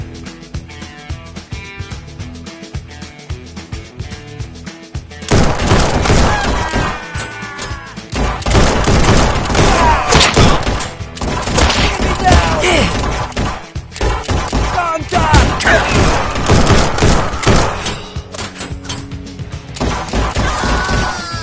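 Rapid revolver shots from two pistols fired together in the VR game Guns'n'Stories: Bulletproof VR, loud cracking bursts over a busy game soundtrack, with a quieter stretch at the start before the shooting intensifies.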